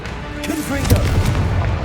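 A Confringo explosive spell blast in the Hogwarts Legacy video game: a booming burst with rumbling low end that swells and lingers for under two seconds over game noise.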